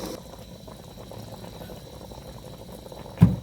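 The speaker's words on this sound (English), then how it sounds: "This is our chicken boiling already." A pot of chicken bubbles at a low simmer with a soft, steady churning, ending in a brief louder splash or knock.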